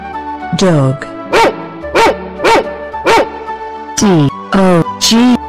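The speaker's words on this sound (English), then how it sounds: "Dog." A dog barks repeatedly and close by, a string of about eight sharp, evenly spaced barks, ending with a few quicker yelps.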